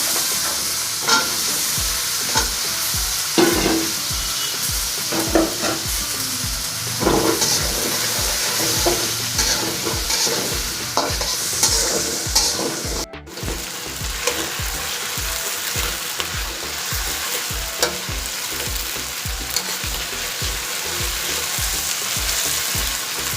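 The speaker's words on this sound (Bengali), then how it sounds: "ভাজি হয়ে গেছে আলু আর পেঁয়াজ।" Potatoes and onions frying in a pan, a loud continuous sizzle broken by repeated scraping stirs in a regular rhythm, heard close up with no talk.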